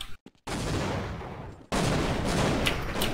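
Counter-Strike gunfire on de_mirage in a competitive match: a few sharp shots at the start, then dense rattling bursts of fire around a brief pause, moderately loud with no talk.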